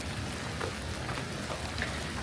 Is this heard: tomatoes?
no